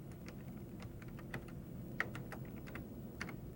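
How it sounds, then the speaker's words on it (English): Keys clatter on a computer keyboard in an MS-DOS setup as text is typed in, giving a steady stream of quick, faint clicks with a few sharper strokes and no voices. "we could create a new text file simply by typing in now from the keyboard"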